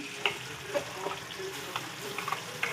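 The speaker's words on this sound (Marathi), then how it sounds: "मसाले छान फ्राय करून घेऊया" Spices and a green paste of raw coconut, coriander, garlic and green chilli with roasted onion fry in a pan, a soft steady sizzle with small pops and the occasional stir.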